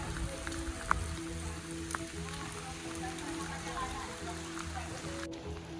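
Steady rainfall in green Konkan countryside during the monsoon, a constant soft patter heard from a gallery with a few sharper drips, continuous and even throughout, with no talking.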